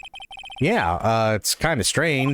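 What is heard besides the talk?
phone ringing in Phoenix Wright video game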